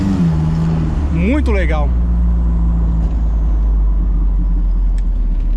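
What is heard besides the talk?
Karmann-Ghia with Audi turbo engine driving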